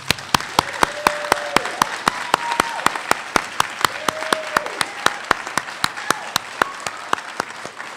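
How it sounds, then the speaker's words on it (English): An audience at a Phi Theta Kappa induction ceremony applauds the inductees: dense, sustained clapping from a crowd, with one loud, evenly spaced clap standing out close by and a few faint voices underneath. "How about one more round of applause for the inductees tonight?"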